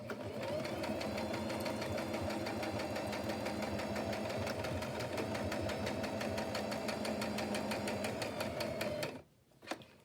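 Sewing machine stitching a journal page, a fast steady mechanical rattle of needle strokes running close and continuous for about nine seconds before stopping abruptly.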